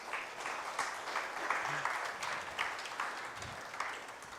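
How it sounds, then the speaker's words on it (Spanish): Steady applause from a large congregation at a church sermon, a dense wash of clapping that holds at an even level throughout. "Dale un aplauso al Señor."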